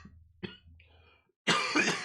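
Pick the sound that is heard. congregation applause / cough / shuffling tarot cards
cough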